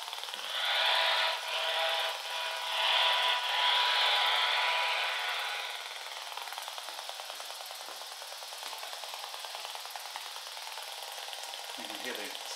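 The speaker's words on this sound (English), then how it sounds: "You can hear the spark plug. It's got a nice purple spark coming off it right now." An electrified spark generator circuit pulses and drives a spark plug; louder irregular crackling bursts give way to a steady, rapid ticking buzz, fairly faint and heard alone.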